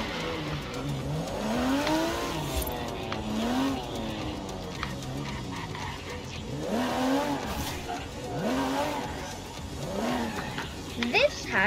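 A 2015 stock car in Forza Horizon 4 revs repeatedly in rising and falling engine sweeps with some tire noise, while people talk over it throughout.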